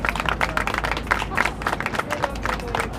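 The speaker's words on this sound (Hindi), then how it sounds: "सुरेंद्र जी के लिए जोरदार तालियां।" Loud, sustained applause for Surendra at a crowded birthday gathering in India, many people clapping together with sharp individual claps standing out from a constant roar.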